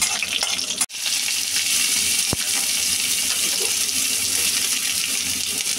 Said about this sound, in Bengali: রসুন আর শুকনো লঙ্কা ভেজে নিচ্ছে মা।